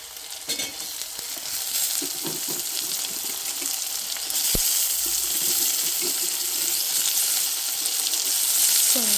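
Tomato pieces cooking with softened carrot in a pan, a continuous close sizzle with stirring scrapes and clatter, growing a bit louder and denser after a sharp knock midway.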